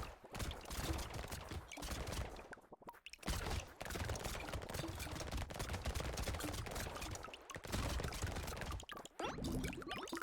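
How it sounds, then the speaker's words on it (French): Explosions from the action game Brotato crackle in dense, rapid bursts, a busy stream of popping blasts and gunfire-like bangs with brief gaps, played continuously at moderate level. "Par contre, ça fait des explosions, ça."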